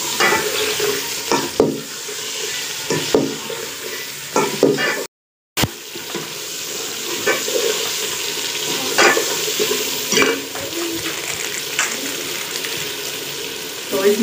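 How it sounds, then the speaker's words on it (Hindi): Chicken pieces fry in a pan with browned onions and ginger-garlic paste, a steady loud sizzle with scraping stirs throughout and one brief cut to silence. "तो अब इसमें हम चिकन डालेंगे।"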